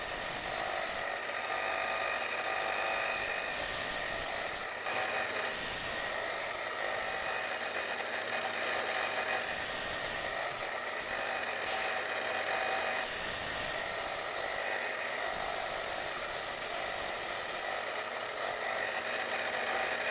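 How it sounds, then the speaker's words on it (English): A miter saw makes repeated cuts through scaffold board wood to clear out material. Several bursts of cutting come at a steady rhythm, each separated by short pauses, with no talking. "Using the depth stop on the miter saw, it's easy to make multiple cuts,"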